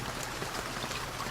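Steady rain falls in the survival video game BugOut, a dense, even hiss of drops with no break and no voices.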